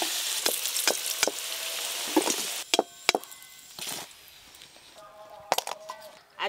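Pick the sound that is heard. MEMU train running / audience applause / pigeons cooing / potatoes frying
potatoes frying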